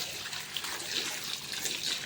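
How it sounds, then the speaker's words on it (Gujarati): Water trickles and splashes steadily while herbs are rinsed for a home-made decoction. The steady hissing flow runs close by and moderately loud without a break. "ઉકાળો કરવા માટે પહેલાં પોદા ધોવા તો પડશે પાણીથી"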